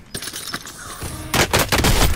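Rapid automatic gunfire in the video game Warzone, dense loud bursts of shots with a heavier volley near the end, close and continuous.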